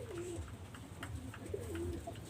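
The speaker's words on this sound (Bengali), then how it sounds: "একজন গোল্ডেন কবুতর আমি দেখাচ্ছি" A golden pigeon coos repeatedly and close by, soft rolling calls recurring about every second over a low steady background hum, with no talking.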